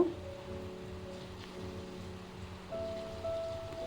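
Banana coconut pitha frying in oil, a continuous soft sizzle and crackle at close range that holds steady and swells slightly toward the end, with a low hum beneath.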